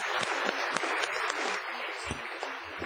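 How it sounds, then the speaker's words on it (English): Applause at a school board meeting for a group of students returning to their seats, with a sustained wash of clapping from the seated audience at a steady, moderate level throughout. "just another round of applause for that impressive group"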